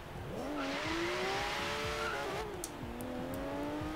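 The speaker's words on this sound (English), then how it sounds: "this thing revs really high" Porsche engine in the Forza racing game revving high and sustained, a loud rising and falling whine with tire squeal, no talking.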